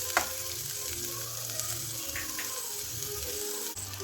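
Tomato and onions sizzle steadily in a hot pan, a continuous close frying hiss with occasional soft clicks and stirring scrapes, no voices.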